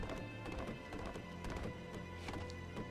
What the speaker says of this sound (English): Man, this dude gallops like a horse.